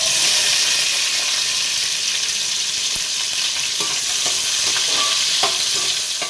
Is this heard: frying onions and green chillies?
yes